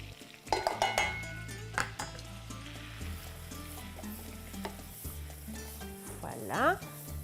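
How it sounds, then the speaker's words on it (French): Flour cooking in butter in a pan for a roux sizzles steadily while a utensil scrapes and clinks against the pan, with someone talking over it. "on va ajouter à notre beurre de la farine"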